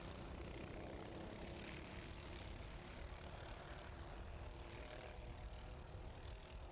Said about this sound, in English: Listen to that roar of the Honda Cadet engine.